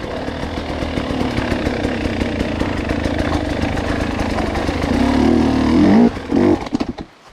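A worn dirt bike engine lugs along in second gear on a wet single-track trail, running steadily before bogging down with a rising strain and then sputtering out to a stall near the end.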